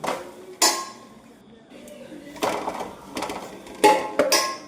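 Chicken masala is stirred in a pot, the spoon knocking and scraping in irregular bursts with clinks against the metal rim.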